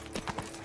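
Horse hooves gallop in The Witcher 3 video game, a quick run of close clip-clop beats over a brief stretch.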